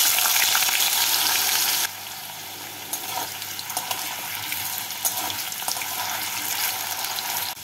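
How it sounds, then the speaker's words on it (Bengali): Potatoes fry in hot white oil, a steady dense sizzle that is loudest at first, then drops to a softer, continuous crackle with scattered pops. No voices. "তেলটাকে ভালো করে গরম করে নিয়ে এর মধ্যে প্রথমে আমি আলুগুলোকে দিয়ে লাল করে ভেজে"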